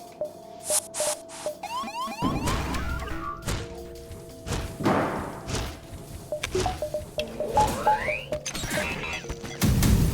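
Ship weapons firing in the space game FTL: a busy run of electronic zaps, whooshing shots, thuds and crashing impacts mixed with rising beeps and tones, fairly loud and continuous.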